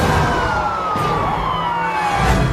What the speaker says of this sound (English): the sound of a siren behind him sparks an angry encore